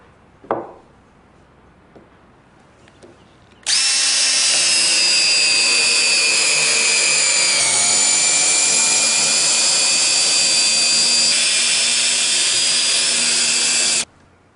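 A power drill drives a SPAX screw into wood. After a faint tap or two, the motor whines steadily and loudly for about ten seconds, its pitch dipping slightly partway through before it cuts off abruptly.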